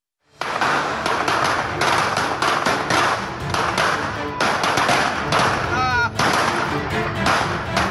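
Firecrackers set off repeatedly near a mosque tower in Subang, West Java, in a dense run of loud, sharp bangs and thuds overlapping one another, with a news narrator's voice running over the blasts.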